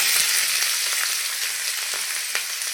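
Onion and green chilli hiss and crackle in hot oil, left over from frying fish, a steady close-up sizzle with a few soft clicks from the pan and no voices.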